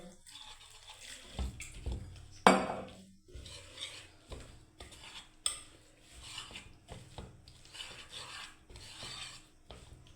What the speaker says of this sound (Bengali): একটু করে জল দিয়ে দিয়ে মেখে নিচ্ছি ভালোভাবে